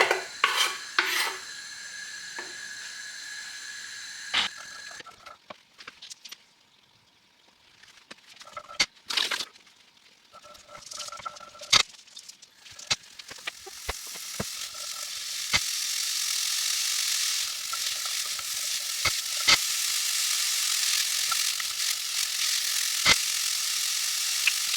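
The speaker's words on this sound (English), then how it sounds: "you do it over a low heat and that you keep stirring them to make sure that it doesn't actually burn the veggies" Chopped vegetables and onion softening in a pan over low heat, with irregular scraping stirs and clatter at first, then a steadily rising, fairly loud hissing sizzle under continued stirring; no voices.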